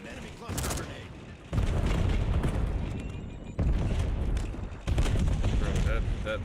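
Semtex grenade blasts and gunfire in a multiplayer shooter game, a few heavy broadband booms arriving in quick succession amid steady battle noise, with a player talking over the action.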